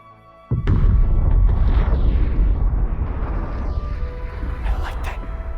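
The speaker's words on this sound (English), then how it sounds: "Oh, I love my big booms." A deep, heavy explosion boom from a video game erupts suddenly and loudly, then rolls on as a sustained rumbling roar with crackling debris for several seconds, with no talking over it.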